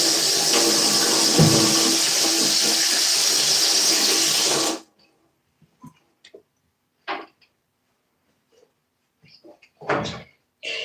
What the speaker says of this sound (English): I'm going to go wash my hands again.